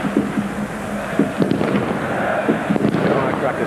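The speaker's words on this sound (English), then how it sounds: "Firecrackers going off all round the stadium." Firecrackers burst around a football stadium during a Greece v England World Cup qualifier, a few sharp distant cracks scattered over a steady, loud crowd roar.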